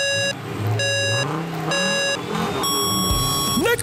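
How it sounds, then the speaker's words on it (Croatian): Cartoon race vehicles starting a race: bright electronic beeps and tonal whines over engine-like rumble and rising revs, loud and close. "4 vozila započinju utrku!"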